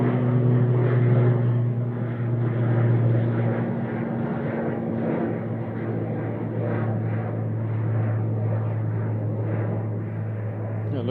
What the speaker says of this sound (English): Aer Lingus Regional departing.